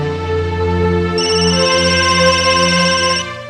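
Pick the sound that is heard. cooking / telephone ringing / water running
telephone ringing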